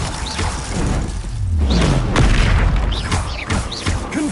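A Glacius freezing spell is cast during combat in Hogwarts Legacy, heard as a loud, busy stretch of booming impacts, whooshes and short bursts layered over a low rumble.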